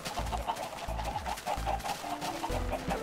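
Chickens clucking in Minecraft, with repeated short calls over a steady game background, and no speech.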